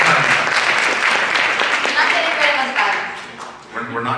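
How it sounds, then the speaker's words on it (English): An audience at a conference talk breaks into applause, a dense burst of clapping that tapers off over about four seconds, ending in a few scattered claps and faint voices. "round of applause"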